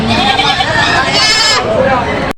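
Native goats at a busy livestock market bleat loudly and close by, the cries overlapping with crowd chatter and babble.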